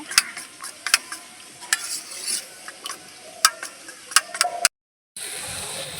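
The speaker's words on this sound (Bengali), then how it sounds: "জলটা গরম হতে হতে একটু ফেটিয়ে নেব ডিমে" Eggs beaten by hand in a bowl, with irregular sharp clicking and tapping strokes at close range, no talk, and a brief silent gap before the sound resumes.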